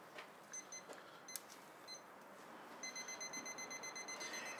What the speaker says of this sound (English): We have a timer.